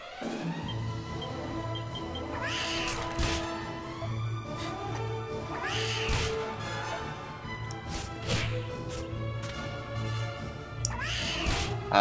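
Candy cat monsters in Dragon Quest VIII, a game-world scene with several short bright cries repeating every couple of seconds over a steady looping background tune.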